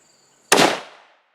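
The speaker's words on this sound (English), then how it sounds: "I'm going to go ahead and take another shot here in just a second." A single loud, close rifle shot fired while sighting in a rifle outdoors: one sharp crack with a short decaying tail, set against near silence.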